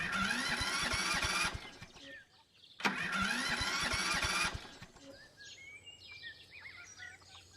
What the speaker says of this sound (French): Et il fait un drôle de bruit, le moteur.